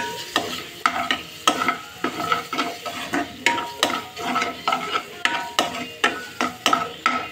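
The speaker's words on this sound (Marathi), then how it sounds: "त्याला मस्त असं छान हलवायचं आहे" A spoon stirs a paneer dish with black pepper and salt in a pan, steady rhythmic scraping strokes about twice a second over a soft sizzle, close and moderately quiet with no voices.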